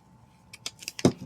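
Scissors cutting paper for a planner layout, several quick close snips building to one sharper cut near the end.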